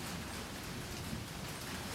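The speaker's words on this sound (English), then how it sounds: "I can hear it raining now, actually." Rain falling steadily on and around a tent, a dense, even hiss of drops across the whole moment with no pauses or voices.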